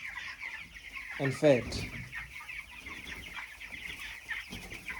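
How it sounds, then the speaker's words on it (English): Chickens cluck around a South African poultry farm house, several birds calling at moderate distance with one louder burst near the start, while a person speaks briefly. "So now you can see the chickens are all over the place, looking healthy, happy,"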